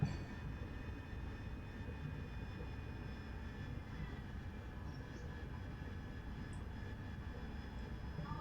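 Harrier jet engine in the DCS flight simulator game, a steady faint turbine whine and roar with thin high tones over a broad rushing hum, unchanging throughout.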